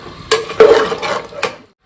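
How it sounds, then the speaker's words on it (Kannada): A spoon scrapes and stirs through a pot of chicken sambar just after water is added, in a few short, close strokes, with light metallic clinks. "ಸಾಂಬಾರಿಗೆ ಎಷ್ಟು ಬೇಕಷ್ಟು ನೀರನ್ನ ಹಾಕ್ಕೊಂಡು ತಿರುಗ್ಕೊಳ್ಳೋಣ."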